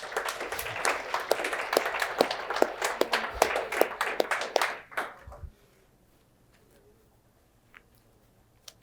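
A conference room audience claps for the women present, with distinct individual claps that are crisp and close. The clapping runs for about five seconds, then trails off into a quiet room with a couple of stray taps.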